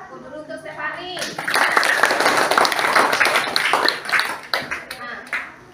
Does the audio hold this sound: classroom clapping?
yes